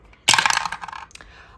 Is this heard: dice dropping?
yes